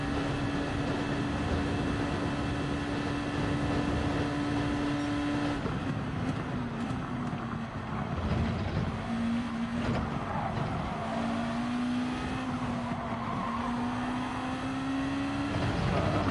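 Race car engine drones loudly and continuously at Spa in Gran Turismo 7, pitch dipping and then climbing as it accelerates, with a steady broadband roar of wind and tyre noise underneath.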